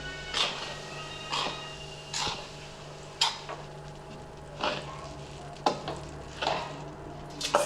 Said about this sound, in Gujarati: હવે એમાં ઘી નાખીને શેકવાનો એ લોટ